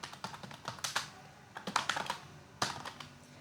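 Typing on a computer keyboard during a graphic design lesson: close, irregular bursts of clicking keystrokes with short pauses and a few harder key strikes, with no talking.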